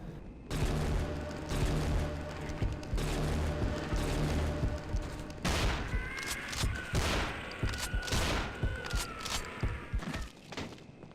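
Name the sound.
silenced pistol shots in a Half-Life 2 mod video game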